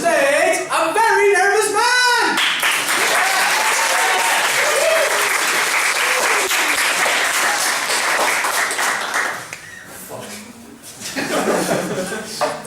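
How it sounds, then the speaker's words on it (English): Loud, dense applause from a live comedy show audience welcoming a nervous performer onto the stage, with scattered laughter early on, a steady roar of clapping that thins out and dips near the end before swelling briefly again. "Please start clapping and welcome to the stage a very nervous man."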